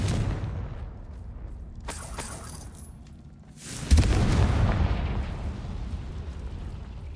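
A Confringo fire spell explodes in Hogwarts Legacy, a single loud close blast with a heavy low boom that rumbles and decays for several seconds after a quieter lead-in.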